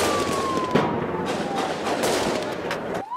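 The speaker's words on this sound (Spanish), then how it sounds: "en medio de tiros" Rapid bursts of gunfire crack repeatedly at irregular intervals, loud and sharp, mixed with a descending whine in the background.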